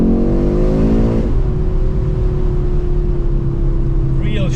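An Audi RS3 8Y engine pulls hard under acceleration, its loud rising drone climbing steadily in pitch before settling into a sustained high-revving roar, heard close from inside the cabin.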